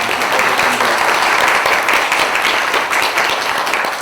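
Loud, sustained applause from a sizable crowd at a press conference, a dense continuous wash of clapping that holds steady throughout.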